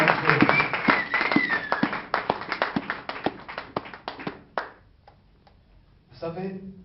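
A church congregation clapping to acclaim God, a run of sharp claps that thins out into a few scattered ones, with voices rising over it and a short burst of speech at the end.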